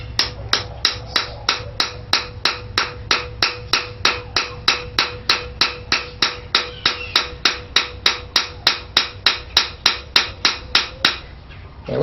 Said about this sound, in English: I'm going to cut it and hammer it out